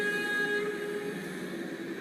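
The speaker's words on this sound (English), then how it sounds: "Horn, H horn, and the little horn is J." A locomotive horn sounds in a Rails Unlimited train simulator while driving a Dutch freight train hauling tank cars, a steady sustained tone held for about two seconds over rolling rail noise.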